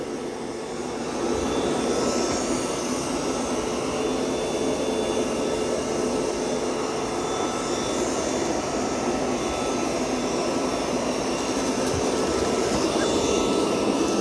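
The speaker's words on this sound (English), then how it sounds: "Pretty impressed with the vacuuming on this." A Roborock Qrevo Curv robot vacuum and mop runs steadily, its broad whooshing suction roar loud and constant throughout, close by with no speech.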